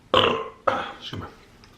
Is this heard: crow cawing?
no